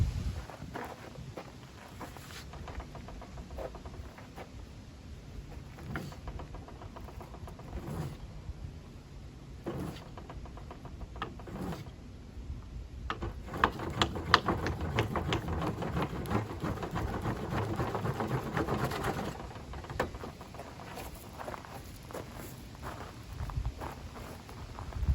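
A jute and wood ash fire roll is rubbed back and forth by hand, giving soft irregular scuffing and rolling strokes that grow denser and louder midway through, with no talk.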